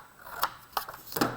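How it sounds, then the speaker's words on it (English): Scissors snip through paper in three crisp, separate cuts spaced about a third of a second apart, close and clear over a quiet background. "if you take a pair of scissors and just do a nice straight"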